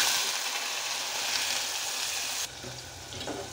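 Onion paste hits hot oil in a pan for a hotel-style chicken soup, a dense close sizzle that drops abruptly to a softer, bubbling fry partway through, with no voices.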